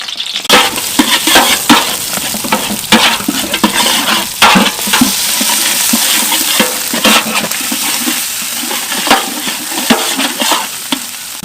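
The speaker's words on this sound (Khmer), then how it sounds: "នេះឥឡូវយើងចាប់ដើមចាក់ប្រេងឆាចូលបន្ទាប់ពីដាក់ប្រេងឆាហើយយកម្ទេសគ្រឿងដែលយើងបានឆ្នាំងហើយហ្នឹងយើងដាក់វាចូលដែរហើយយើងកូរវាឲ្យ" Chili spice paste being stirred as it fries in hot cooking oil, with steady loud sizzling and repeated scraping strokes of a utensil against the pan throughout.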